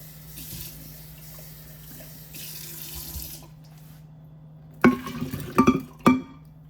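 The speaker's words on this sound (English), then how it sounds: "I am gonna add a little bit of water." Water pours from a tap into a pitcher of blended turmeric juice, a steady close stream for several seconds, then a pause and a few sharp clinks and splashes.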